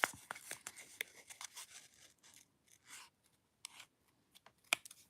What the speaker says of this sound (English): The only time you do anything with the scissors is to close them.